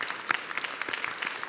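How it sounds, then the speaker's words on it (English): A round of applause for parents at a congressional art competition reception, many hands clapping in a lively, uneven patter, moderately near and sustained across the whole moment without speech. "I think you guys deserve a round of applause"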